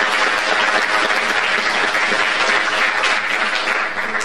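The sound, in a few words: applause at a school entrance ceremony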